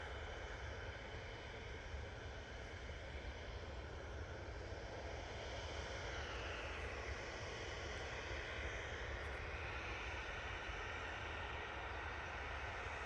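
A Jet2 passenger jet taxis at Manchester Airport, its engines giving a continuous distant roar and whine that swells slightly midway, with no talk over it.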